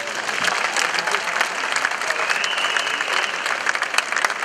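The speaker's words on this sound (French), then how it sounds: "On les applaudit." An audience at a blues festival awards ceremony in Cahors applauds, a loud, dense and steady clapping that fills the whole stretch without pause.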